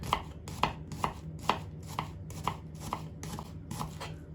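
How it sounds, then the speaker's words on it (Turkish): A knife slices dry onions rhythmically on a cutting board, about ten evenly spaced crisp strokes close by, with no talking. "Kuru soğanlarımızı da doğrayalım. Piyaz şeklinde doğrayacağız arkadaşlar."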